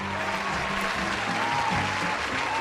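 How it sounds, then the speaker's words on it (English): A crowd claps steadily and densely throughout, with a faint voice underneath. "I'll give him a round of applause."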